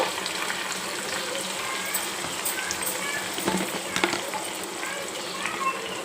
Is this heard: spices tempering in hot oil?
yes